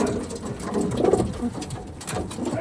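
Pigeons from a breeder's stock coo in low, throaty, rolling calls, close and clear, with soft rustling around them and no talking.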